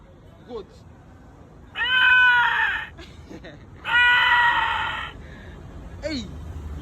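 A boy imitates a goat with his voice: two loud, quavering bleats about two seconds apart, with quieter breaths and small noises between them.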